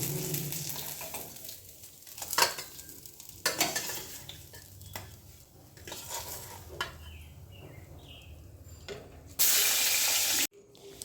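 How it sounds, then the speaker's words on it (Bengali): Catla fish pieces fry in oil in a home kitchen for a fish curry, with a steady sizzle broken by a few clinks and stirring scrapes of a spatula and a brief louder hiss near the end. "মাছ কটা ভেজে নিই।"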